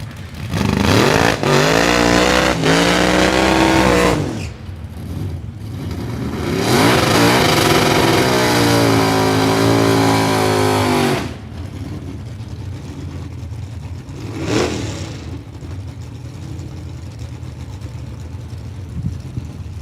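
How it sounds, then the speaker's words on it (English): A 1953 Chevy 3100 pickup drag racing truck making a qualifying run, its engine roaring loud and close with sustained rising revs in two long bursts, then fading to a distant rumble. "Corey Potts out of Charleston, Indiana, in the Sanford Sun 1953 Chevy 3100, the Blood Brothers Racing and Potsy's Fabrication sponsored pickup truck"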